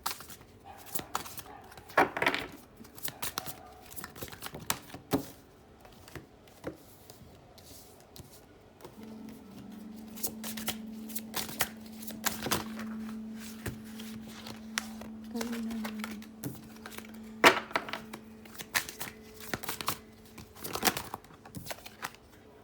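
Tarot cards are shuffled and drawn in bursts of quick riffling and soft slaps, close and fairly faint, with a few pauses between runs and a sustained low hum in the middle.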